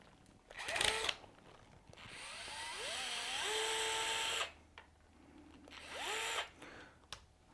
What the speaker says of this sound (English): we're going to remove the screw out of our tie rod that's here.